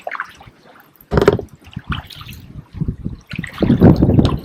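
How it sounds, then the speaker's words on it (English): Wind-driven waves on a river slap and splash against a canoe, giving irregular wet bursts, some louder and closer, between quieter trickling gaps. "the wind is so strong it's creating these waves on the river"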